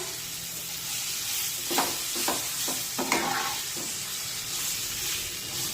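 Boiled field beans stirred into spiced oil in a pan, a constant hissing sizzle broken by a few spatula scrapes and knocks midway, no talk.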